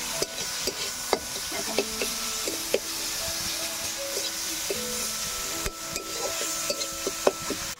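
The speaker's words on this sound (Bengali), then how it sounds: "এবার আমি মশলাটাকে কষিয়ে নেব।" Masala paste of tomato and salt sizzles steadily in a pan while a spoon scrapes and stirs it in irregular knocks and rubs, cooked in a village kitchen with no talking.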